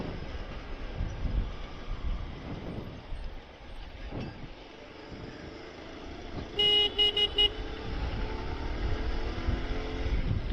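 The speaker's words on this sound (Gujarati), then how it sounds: "આજે અમદાવાદમાં હતું ફૂલ ટ્રાફિક. હજી ટ્રાફિકમાં જ છીએ" Heavy traffic in Ahmedabad near Lal Darwaja rumbles on steadily, with a rapid series of short car horn toots breaking through midway.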